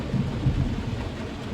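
Low rolling thunder rumbles through a thunderstorm with rain, a sustained deep grumble lasting the whole moment without any voices.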